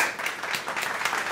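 An audience's applause and clapping, dense and continuous hand claps at moderate loudness throughout the brief moment, with no clear talk on top.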